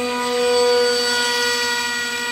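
An RC model J-20 jet passes overhead with a loud, steady turbine whine. Its layered tones swell slightly, then ease off as it goes by.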